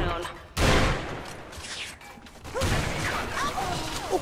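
Gunfire in the shooter game Special Force 2, loud close bursts of rapid shots with mechanical clatter, a sharp blast near the start then a sustained volley later, a voice talking over parts of it.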